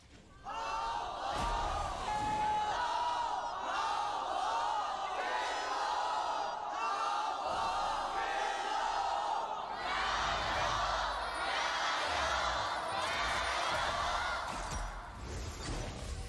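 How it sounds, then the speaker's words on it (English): Canned crowd noise at the 2020 LPL Summer Split finals, JDG vs TES, roars continuously, a loud, dense wall of cheering and shouting that swells further near the end. "Our canned crowd is going ballistic for our two teams here."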